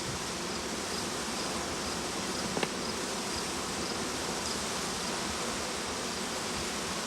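Honeybees buzz steadily inside an opened hive, a dense, even hum close by that fills the whole stretch, with one brief faint tick partway through and no talking.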